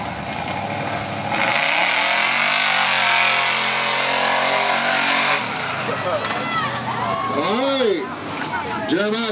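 Mud racing vehicles roar at a night event in Moorhead, a loud sustained engine drone with rising revs and repeated swooping pitch sweeps toward the end, heard under an announcer's amplified commentary.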